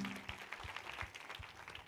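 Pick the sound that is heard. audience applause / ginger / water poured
audience applause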